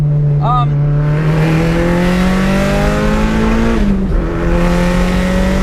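A loud car engine held at high revs, its droning pitch climbing slowly, then dipping briefly with a gear change before pulling on again, heard from inside.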